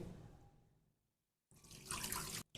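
Water poured into a cooking pot while making steamed fish, a faint trickle at first, then a brief silence and a louder splashing rush of pouring.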